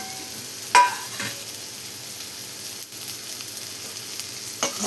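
Cabbage and spring onion with salt, masala and tomato are stirred in a frying pan. A soft, steady sizzle is broken by a few scraping clinks of the spoon against the pan, close and fairly quiet.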